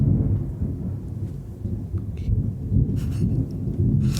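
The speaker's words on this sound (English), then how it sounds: "Can y'all hear the thunder?" Deep thunder rumbles on steadily throughout, fairly loud and rolling, with light rain faintly mixed underneath and no voices.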